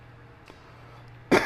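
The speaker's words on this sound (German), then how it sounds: "das war etwas saftig gerade, das Huster" A single wet, forceful human cough bursts out at the very end after near-quiet, sounding loud and close to the microphone.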